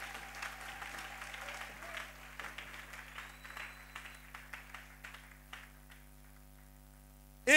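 A church congregation applauding during a Sunday service, sustained crowd clapping with a low background hum, gradually thinning and fading before a sudden loud burst at the very end.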